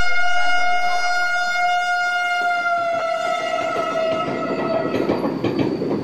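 The Ganadevata Express passenger train at Bardhaman station, its loud, sustained horn sounding over rolling wheels and carriage clatter, with the horn fading into rail noise toward the end.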